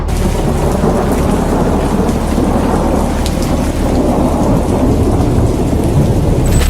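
Steady heavy rain pours throughout, with low rumbling thunder rolling underneath; a dense, continuous storm with no voices.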